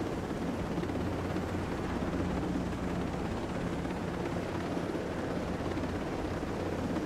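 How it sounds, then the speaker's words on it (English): A helicopter flies in Ghost Recon Breakpoint, its rotor and engine producing a steady, dense, unbroken roar that stays loud and even for several seconds, with no voices. "Now, I'm not sure about this helicopter."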